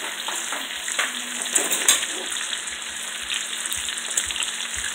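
Bacon frying in a pan, a steady close crackling sizzle with scattered louder pops and occasional stirring clatter, continuous throughout.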